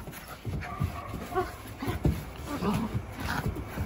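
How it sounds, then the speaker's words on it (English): A Dutch Shepherd puppy yips, barks and whimpers in short, repeated bursts close by, with a voice talking over parts of it. "Crazy, crazy dog."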